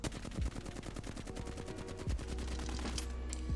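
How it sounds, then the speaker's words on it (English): A Flatline rifle in Apex Legends fires a sustained, steady full-auto burst, rapid evenly spaced shots with heavy low thumps running the whole length, loud and close with no talk. "starting with the flatline, I'm going to show you guys exactly what this one looks like"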